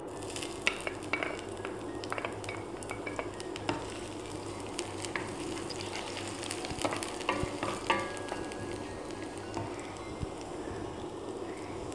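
Ginger frying in hot sesame oil for a garlic pickle, a dense, steady crackling sizzle with scattered sharp pops and occasional stirring scrapes, close and moderately quiet, with no talk.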